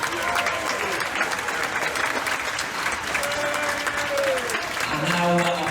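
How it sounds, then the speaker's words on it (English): An audience applauds the ship's crew aboard the cruise ship Radiance of the Seas, sustained loud clapping from a large crowd filling the room at an even level throughout. "give all of our wonderful crew members a massive round of applause today"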